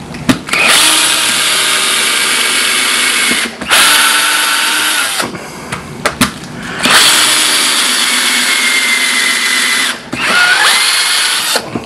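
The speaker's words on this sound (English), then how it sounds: "So I'm just drilling these holes." A power drill whines loudly in several long bursts, stopping and restarting with short pauses between, close up and with no talking.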